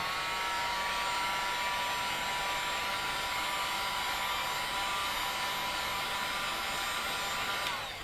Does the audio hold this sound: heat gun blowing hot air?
yes